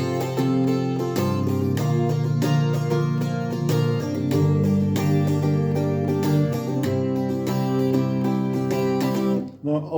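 Guitar plays an instrumental arrangement of a song, with steady strummed chords sustained throughout at moderate loudness, stopping abruptly near the end; no singing or talk.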